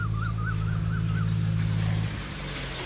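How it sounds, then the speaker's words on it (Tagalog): A water pump motor runs steadily with a low droning hum, used to pump irrigation water on a farm plot, with flowing water hissing alongside; the hum drops and quiets near the end while a faint bird chirps overhead. "Maingay dito sa likod namin guys, gawa nung tunog ng tubig saka ng motor."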